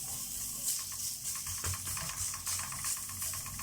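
A piece of meat fat melts in a hot pan with a steady, close sizzle and hiss, soft crackles and pops scattered through it, and no voices.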